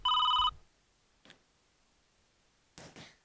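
A phone rings once in a short electronic tone at the start, followed by quiet with a couple of soft handling knocks and rustles.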